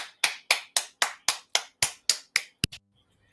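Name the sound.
audience applauding with finger snaps and claps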